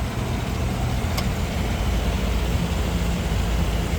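Idling 6.6-liter engine of a 2021 GMC Savana 3500 16 ft box truck, a steady low rumble close by with an unchanging loud drone and no talking.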